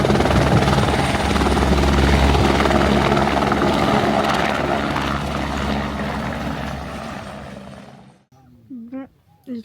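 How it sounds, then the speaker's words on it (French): A rescue helicopter on Kilimanjaro roars loudly with its rotor and engine thundering continuously, then the noise cuts off and a voice speaks briefly at the end. "L'hélico vient d'atterrir,"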